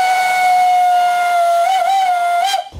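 The Train de l'Ardèche steam train, a vintage locomotive about 130 years old, sounds its whistle in one long, steady, shrill blast with a slight waver, ending abruptly.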